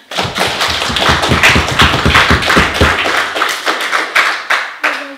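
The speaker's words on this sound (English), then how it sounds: "Let's clap for her." An audience in a talk session applauds a speaker, with close, crisp claps in a dense burst that thins out toward the end.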